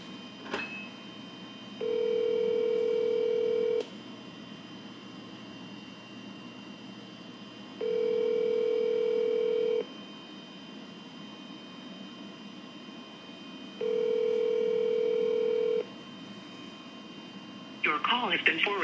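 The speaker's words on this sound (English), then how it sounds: "I'm gonna try and call the first place winner back one more time before I shoot him a text." An outgoing phone call rings back three times, each a steady two-second electronic tone separated by long pauses, heard close through the handset, with a short clatter of noise at the end.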